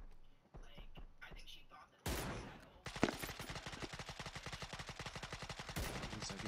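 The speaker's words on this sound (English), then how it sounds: "He's trying to shoot at you, Trav." Rapid automatic gunfire rattles loudly and steadily in a battle-royale shooter video game, following a few single shots and a sharp blast. Players talk quietly over headsets during the shooting.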